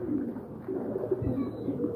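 Racing pigeons coo in low, throaty rolling calls at their new loft, several soft repeated coos close by over a faint background.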